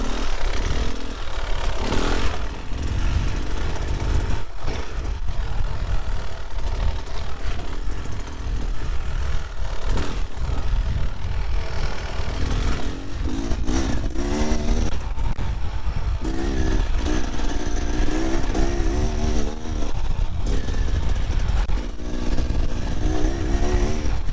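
A 2024 Beta Xtrainer 300 dirt bike engine drones steadily at low revs, with occasional throttle blips and a buzzing, sputtering tone close by, no voices.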